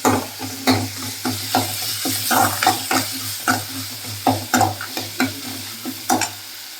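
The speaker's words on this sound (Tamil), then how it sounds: "நல்லா வதக்கிக்கலாம்." Food with turmeric sautéing in a pan, a constant sizzle broken by repeated rhythmic scrapes and knocks of stirring, close and fairly loud.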